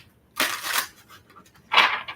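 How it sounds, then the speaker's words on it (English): Tarot cards shuffled by hand at close range, two short bursts of crisp riffling and flapping separated by a brief pause. "it's going to be our last shuffle"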